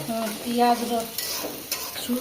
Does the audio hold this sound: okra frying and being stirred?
yes